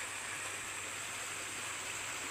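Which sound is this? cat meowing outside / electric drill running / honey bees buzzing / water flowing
water flowing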